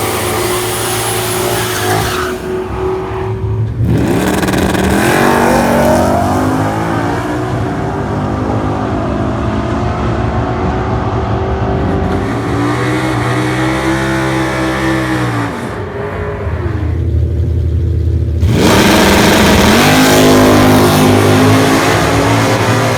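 A supercharged 2011 Ford Mustang with a Vortech-boosted Coyote engine and high mileage launches down a drag strip, engine roaring loud and near, rising through gear changes with brief drops between shifts, then trailing off.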